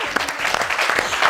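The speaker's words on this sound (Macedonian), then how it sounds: "Ја да добиам аплауз." Studio audience at a television talk show applauding, a short burst of brisk overlapping claps, fairly close and alone.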